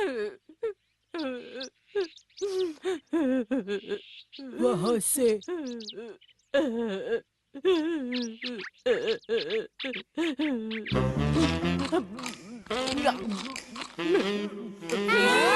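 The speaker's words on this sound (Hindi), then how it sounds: "ये रोने की आवाज है।" Wavering, drawn-out wailing and whimpering cries echo through a Shinchan cartoon scene, rising and falling in pitch and ending in a denser burst of moaning, with voices talking over parts of it.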